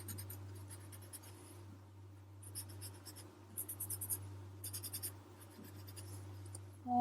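Pencil shading being blended on paper in a zentangle drawing, soft intermittent rubbing strokes in short bursts of scratchy friction, close and quiet over a low steady hum.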